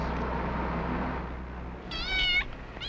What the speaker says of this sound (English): Your cat seems to have gotten itself locked out.